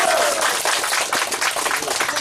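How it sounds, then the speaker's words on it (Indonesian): A crowd at a regent candidate's campaign rally in Tahota district, South Manokwari, bursts into loud, close applause, a dense clatter of many hands lasting a couple of seconds. "Tepuk tangan untuk kamu dulu."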